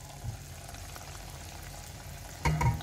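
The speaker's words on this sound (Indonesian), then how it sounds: "masukkan cili blend ke dalam bawang tadi. Tumis sampai dia pecah minyak tau." Blended chili sizzles in hot oil with fried onions for sambal tumis ikan bilis: a steady close frying hiss that swells into a louder burst of sizzling near the end, with no talk.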